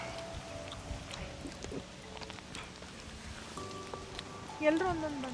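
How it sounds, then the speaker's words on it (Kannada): Steady rain falls on a hillside during a monsoon trek to Kabbaladurga, a soft, continuous patter with faint scattered drops and a brief louder rustle near the end. "ಮಳೆ ಹೆಂಗೆ ಬರ್ತಾ ಇದೆ ಈ ಕಡೆ ನೋಡಿ"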